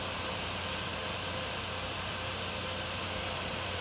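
Red Dragon RX 580 graphics card fan running at 70% speed, giving a loud, continuous airy hiss with a faint low hum and no change throughout.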